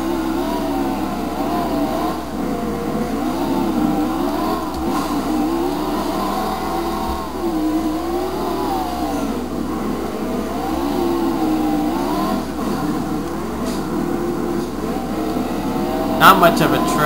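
Race car engine in the NASCAR Heat video game at Sears Point, a steady droning roar with gentle rises and falls as the car drives through sand, with a few faint clicks near the end.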